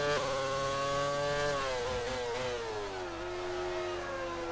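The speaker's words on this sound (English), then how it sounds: "the screaming engine. It sounds so good." A high-revving race car engine screams in the Grand Prix Legends racing game, on the Bahrain circuit, holding a loud steady wail with pitch dipping and climbing as the car shifts and drives on.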